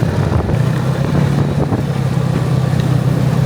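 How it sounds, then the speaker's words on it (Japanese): Snowmobile engine droning steadily in freezing Finnish Lapland, a close, loud, even motor hum with wind buffeting underneath and no speech. "スノーモービルで帰ります"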